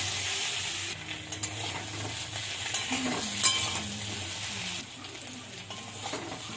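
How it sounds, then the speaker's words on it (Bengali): Drumstick vegetable pieces and potatoes frying together in a pan with turmeric and salt give a steady close sizzle, with stirring scrapes and a few soft utensil clinks. "ডাঁটা আলুটা একসঙ্গে ভেজে নেব।"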